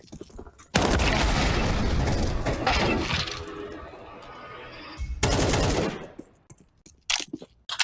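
A grenade explodes in a video game with a loud, close, long roaring blast, followed by a second shorter burst and a few sharp cracks at the end.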